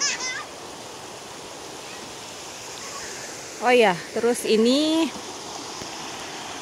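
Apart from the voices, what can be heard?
river flowing beside riverside camping ground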